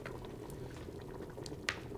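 A pot of pumpkin stew simmers at a low boil, a soft continuous bubbling with a few small pops, close and steady.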